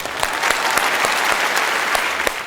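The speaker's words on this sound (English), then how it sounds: "let's give a big round of applause and welcome her as she shares her views with us" A live audience applauds steadily at a corporate foundation day event, with dense, continuous clapping at even loudness and a few sharper claps standing out throughout.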